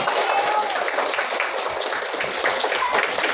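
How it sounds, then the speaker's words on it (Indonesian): A classroom of students claps for a classmate, a brief, fairly busy patter of hands at moderate level, with some voices mixed in. "Tepuk tangan buat Hafiz."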